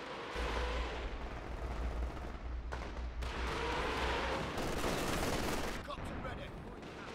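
Rapid video-game gunfire rattles on continuously as a dense, loud barrage of shots over low rumbling, with a few voices calling out over it.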